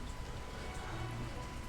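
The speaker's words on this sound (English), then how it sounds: "we've got a little rain shower outside going on" A light rain shower falls outdoors, a steady soft patter of drops spread evenly across the short stretch at moderate distance, with no talk over it.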